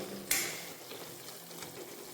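Raw turmeric roasting in a pan for a Rajasthani sabzi, with a sharp metallic scrape of a spoon on the pan near the start, then a low steady sizzle and occasional soft stirring clinks, close by and with no talk.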